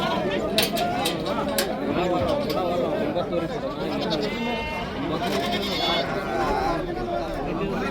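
Milk goats bleat repeatedly at a busy Thursday morning livestock market in Haveri, Karnataka, India, with overlapping calls near and far among crowd chatter and people talking close by.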